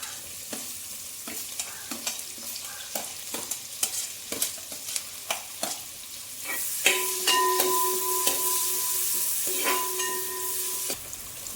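Sliced onions go into a hot pan with ginger and green chillies, setting off a loud steady frying sizzle amid regular stirring clicks, the hiss swelling as more is added.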